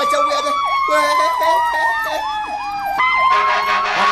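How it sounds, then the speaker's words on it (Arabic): A loud, close police siren wails in repeated rising and falling sweeps, then switches abruptly to a faster pattern near the end, with road noise beneath. "اسمع صوت شرطة ابويا"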